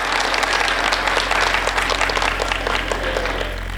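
An audience applauding at a Hindi comedy poetry show, dense rapid clapping from many hands, close and loud, holding steady for several seconds before easing slightly at the end, with no talking over it.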